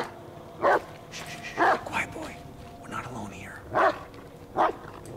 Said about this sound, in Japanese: すっごい吠えてんだよね。